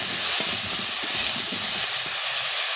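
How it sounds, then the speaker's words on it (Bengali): Potatoes fry in hot oil with a continuous close hiss and crackle and some faint low clatter underneath, steady throughout with no talking. "আলুটা লাল লাল করে ভেজে নেবো"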